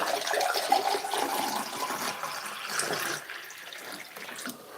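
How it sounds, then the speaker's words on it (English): Water is poured in a steady, splashing stream that weakens slightly toward the end, heard alone without talk. "That was a lovely pour."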